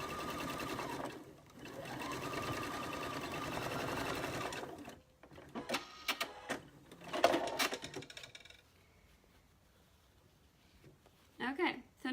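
Sewing machine stitching the third row of a patchwork pin cushion, a sustained whir for a few seconds, then a run of short uneven bursts with pauses, and a final brief burst near the end.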